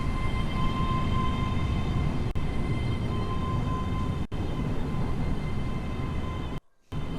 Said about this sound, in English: As this train departs.